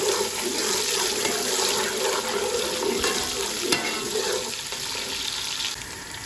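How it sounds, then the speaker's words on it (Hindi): Onions fry in hot ghee for a chicken and tinda dish, a steady dense sizzle that carries on unbroken at close range with no voices. "और प्याजों को अच्छी तरह से हम फ्राई करेंगे सुनहरा ब्राउन आने तक।"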